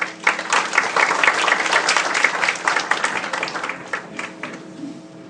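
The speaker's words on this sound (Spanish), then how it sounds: "para quien pedimos un fuerte aplauso" Audience applause for a guest at a forum on gender equity and women's rights, a dense burst of clapping that holds steady for several seconds and then thins out. No one speaks over it.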